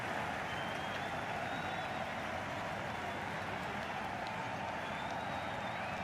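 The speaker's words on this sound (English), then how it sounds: "The crowd are really getting quite raucous." A stadium crowd at a cricket match in the video game Cricket 22 roars in a continuous, dense wash of cheering and noise, steady and moderately loud with no distinct individual voices.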